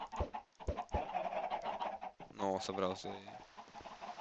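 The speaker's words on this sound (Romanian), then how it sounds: "Pui de găină..." Baby chicken in Minecraft clucking in short chirpy bursts, mixed with someone talking in Romanian over and between the calls.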